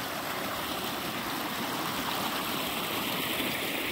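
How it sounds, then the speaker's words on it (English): A small creek flowing past a zip line cable outdoors, a steady close hiss and splash of running water filling the whole stretch with no voices. "this is a creek. A small creek going there, going through there"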